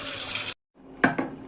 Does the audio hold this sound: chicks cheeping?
no